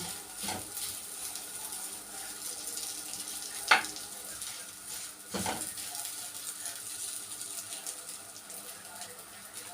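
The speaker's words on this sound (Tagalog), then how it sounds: "Ayan, nagluluto tayo ng pinikpik" Pinikpik, a Filipino snack, sizzles steadily in a frying pan with a soft, even hiss, broken a few times by clearer scrapes and clinks of a utensil against the pan.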